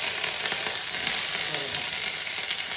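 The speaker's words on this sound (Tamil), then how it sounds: "ஒரு பிரிஞ்சி இலை போட்டோமா, அதுக்கப்புறம் பச்சை மிளகா, அப்புறம் கருவேப்பிலை" Bay leaf, green chili and curry leaves fry in hot oil for egg rice, giving a close, steady, crackling sizzle that runs unbroken with no voices.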